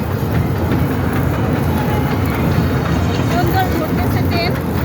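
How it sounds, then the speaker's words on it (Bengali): A small amusement-ride train runs at a village fair, rumbling and clattering steadily close by with crowd noise around it. "সুন্দর বিনোদন train, jug jug jug train চলেছে"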